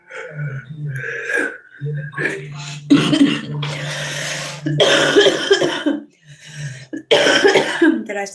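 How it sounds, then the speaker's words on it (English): A woman coughs repeatedly during a live tarot reading, several harsh bursts with throat clearing and gasps spaced between pauses, close to the microphone, with talking in between. "Excuse me for any and all coughs."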